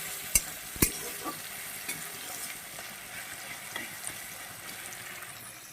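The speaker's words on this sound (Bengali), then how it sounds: "তো এটা সুন্দর করে ভাজতে হবে, লাল লাল করে, তারপরে ডালটা দিতে হবে" Whole spices frying in oil in a pan for dal, a soft steady sizzle with a couple of sharp clinks or stirs near the start, close and fairly quiet, no voices.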